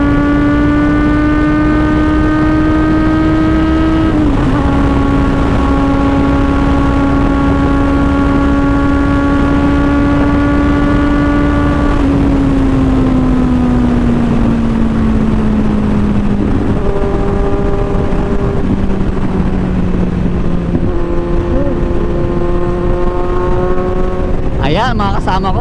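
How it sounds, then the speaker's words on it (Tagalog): A Kawasaki Z1000R motorcycle engine drones steadily through its exhaust muffler, holding a smooth loud tone that shifts pitch several times as it revs and eases across the stretch. "maririnig nyo yung muffler"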